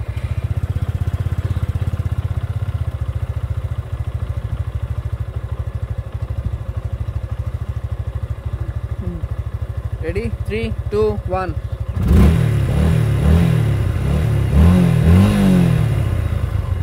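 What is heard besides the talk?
motorcycle engine whining from a timing chain problem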